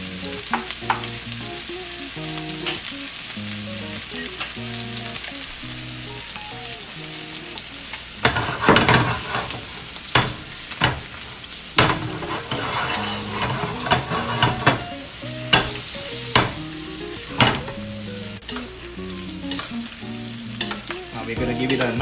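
A pork chop fries in a bath of oil and butter, a steady sizzle that swells into louder, crackling spatters partway through, punctuated by irregular bursts and pan clatter, heard up close over faint background music.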